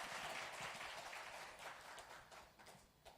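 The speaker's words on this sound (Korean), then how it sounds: "박수로 격려하겠습니다" A church congregation at a Sunday worship service applauding, a faint, steady wash of clapping that gradually fades toward the end.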